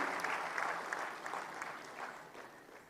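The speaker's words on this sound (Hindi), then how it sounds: "मैं चाहूंगी जो 100 प्रधानों को सम्मानित किया जा रहा है उन सब के लिए तालियां हो जाएं" An audience claps warmly for a hundred honoured village heads at a public ceremony, a dense burst of applause that gradually thins and fades.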